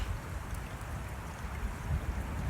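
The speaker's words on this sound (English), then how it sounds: "the water is still running down this creek" A small creek carrying fuel-contaminated water flows steadily, a faint continuous gurgle and rush of running water with no voices.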